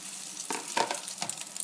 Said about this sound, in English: Just throw it into your frying pan.